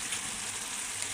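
Potatoes frying in rendered beef fat, a steady dense sizzle with crackling close up, holding at an even level with no voices.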